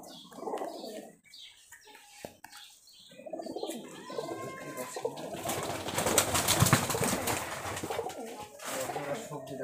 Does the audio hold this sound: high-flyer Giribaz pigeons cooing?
yes